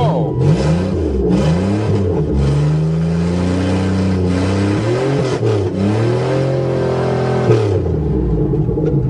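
A Buick Regal GM car engine, running again after a no-start repair, revs up and settles repeatedly. The loud, close rumble rises and falls in pitch without pause.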